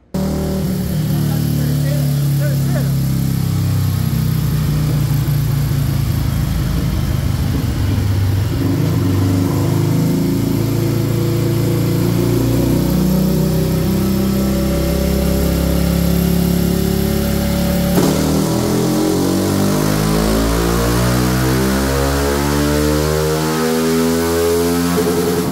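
A Honda Titan 150 motorcycle fitted with a 32mm XRE 190 throttle body revs hard on a dynamometer and holds high, droning loudly, then the pitch sweeps down and back up as the throttle changes near the end.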